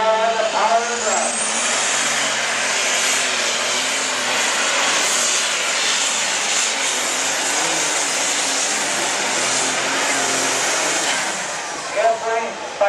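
A super stock tractor engine roars at full power during an NTPA Grand National open tractor pull, loud and sustained for most of the run, with an announcer talking over it.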